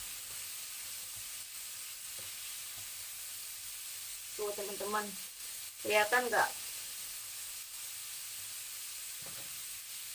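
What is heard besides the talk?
chicken popcorn frying in oil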